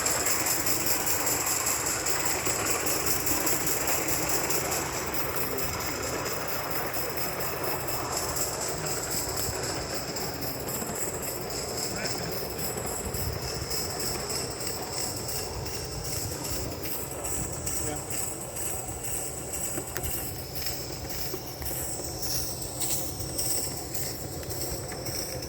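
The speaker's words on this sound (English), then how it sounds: "So here we have my blue Roundhouse Tally Sin locomotive running some good stock." A live-steam Roundhouse locomotive hauls stock on 45mm garden track with a steady, continuous rolling rumble and hiss for the whole stretch. Faint wheel squeal and clicking ride on top, with no voices.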